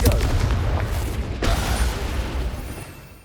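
Confringo fire spell explosion in the game Hogwarts Legacy, a loud booming blast at the start that rumbles down over a few seconds, with a sharp crack midway.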